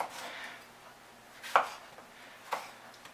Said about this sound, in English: Now we just need to chop our tomato.